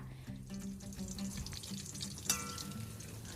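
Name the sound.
shrimp cakes and basil leaves deep-frying in oil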